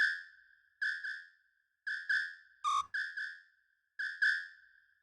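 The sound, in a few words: whistle samples in an amapiano beat in FL Studio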